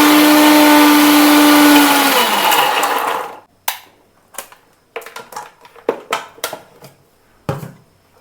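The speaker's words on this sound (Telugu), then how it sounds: "సో ఇప్పుడు ఇదంతా కూడా మనం మిక్సీ పట్టుకుందాం." A mixer grinder grinds spices with a loud, steady whir for about three and a half seconds, then cuts off. Scattered clicks and knocks follow as the jar and lid are handled. No one speaks.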